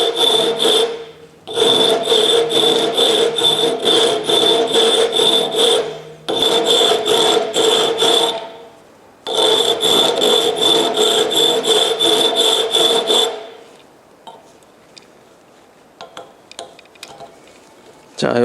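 A file rasps a hole into 1/2-inch copper pipe during a refrigeration brazing exercise. It makes loud, steady back-and-forth strokes in three long bursts with short pauses between them, then goes quiet except for a few faint clicks.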